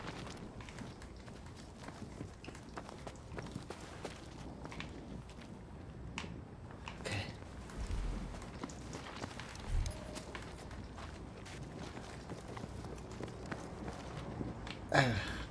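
Running footsteps in Battlefield V's Firestorm battle royale mode: rapid, steady in-game steps patter throughout alongside dense game ambience, with a few sharper hits near the end.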